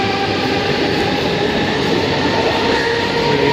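A Mumbai suburban local train runs at Pimpri station, close and loud. There is a continuous rumble with steady wheel clatter and faint squeal throughout, and no talk.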